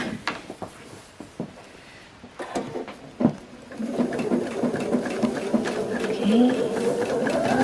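A sewing machine back-stitches along a fabric piece in a steady, close, rapid patter that starts after a few scattered taps and clicks. A voice speaks briefly.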